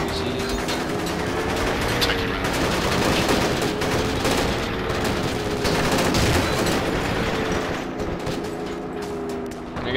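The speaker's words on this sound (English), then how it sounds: "There's a freaking RPG shooting at all the NPCs." Continuous gunfire mixed with RPG blasts in the military shooter Project Reality during a co-op match on the Ramiel map, a dense, loud barrage of overlapping shots and booms that never lets up.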